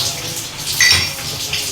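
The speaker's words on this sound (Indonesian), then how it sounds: "Tambahi airnya" Water runs and splashes into a cooking pot in a home kitchen, a steady close pour lasting under two seconds with a brief brighter burst midway, no talking over it.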